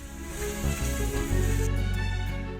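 Chopped garlic sizzling in olive oil in a very hot pan, a steady close hiss of frying that swells partway through and stays loud to the end, with no voices.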